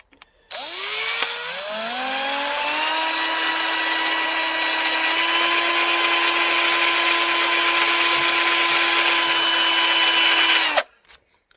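A power drill bores a hole in a VW hubcap being made into a fuzz pedal, spinning up sharply to a steady high whine that holds for about ten seconds before cutting off, close and loud.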